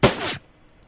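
A handgun fires once in the video game Shadowrun Returns, a loud sharp blast that cuts off abruptly into near silence.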